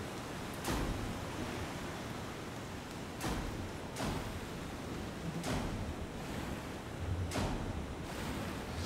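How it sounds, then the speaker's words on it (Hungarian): A huge ocean wave in the Exo One video game: broad, steady roaring surf noise that swells in repeated surges over several seconds, loud and close, with no talking. "Ú, mekkora hullám ez."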